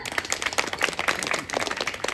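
An audience at a Marathi kirtan devotional gathering claps together in a brief, lively burst of applause, close and fairly loud, with no speech.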